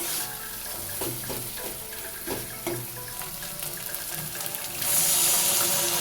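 Water from rinsing a bowl of ground mustard and cumin paste pours into a pan for a drumstick, pointed gourd and potato curry: a steady splashing run with small gurgles, swelling louder near the end, with no voices.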